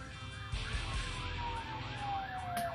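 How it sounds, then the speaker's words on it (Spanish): An ambulance siren wails past on the street, its repeating rise-and-fall tone holding steady and then sliding lower as the vehicle goes by, heard alone over a faint background hum. "la ambulancia que pasó"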